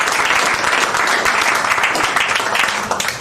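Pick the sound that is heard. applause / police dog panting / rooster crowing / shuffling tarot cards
applause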